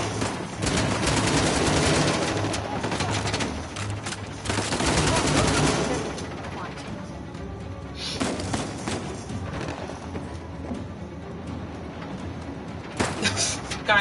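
Gunfire in Uncharted: The Lost Legacy, bursts of rapid automatic shots and thuds in a combat firefight, loud clusters early then scattered shots later, with some talk mixed in.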